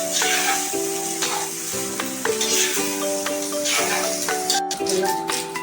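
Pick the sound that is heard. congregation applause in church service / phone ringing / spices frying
spices frying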